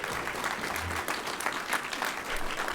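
Audience applause at an evening science forum, steady dense clapping filling the room for a few seconds without a break.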